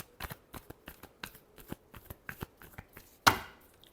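Tarot cards being shuffled by hand, a quick run of soft papery riffles and taps close up, ending in one sharper, louder snap of the deck, with no talking.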